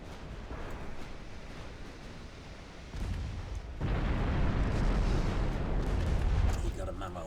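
Battleship secondary guns fire at light cruisers in the naval game Ultimate Admiral Dreadnoughts, a rolling wall of distant booming gunfire that swells louder midway and holds under a low rumble.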